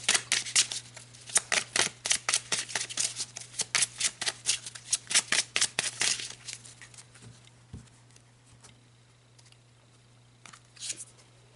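A deck of tarot cards is shuffled by hand in a quiet room: a quick run of crisp riffling flutters over the first six seconds, then a few softer taps and card sounds trailing off.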